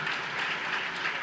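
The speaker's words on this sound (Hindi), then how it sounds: "तालियां।" A crowd claps steadily at a university culture festival in Haridwar, a sustained wash of many hands applauding evenly with no pauses and no voices over it.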